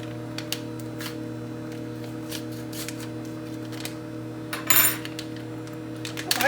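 A fork scrapes and taps against a dish, whisking cold-water brown gravy mix into water, in light irregular clinks over a steady appliance hum, with a louder clatter near the end.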